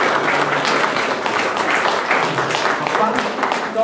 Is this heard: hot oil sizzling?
no